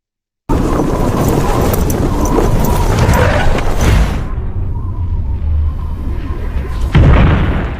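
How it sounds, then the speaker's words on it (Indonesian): A plane crashes with a loud booming explosion that erupts and rumbles on with dense crackling noise and music, then a second burst hits near the end. "sebelum pesawat jatuh meledak"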